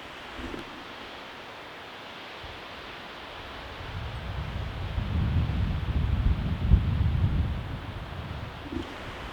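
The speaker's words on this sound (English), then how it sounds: "I don't know if the wind is going to affect the camera" Gusty wind buffeting a camera microphone outdoors on a military training ground, a low rumbling roar that swells in the middle and fades again, with no voices.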